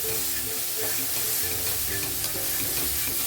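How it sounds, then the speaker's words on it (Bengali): Chopped tomato being stirred with mixed winter vegetables in a frying pan, a steady close sizzle with scraping spatula strokes running throughout. "এটাও আমি সবজির সঙ্গে একটু ভালোভাবে নাড়াচাড়া করবো এভাবে"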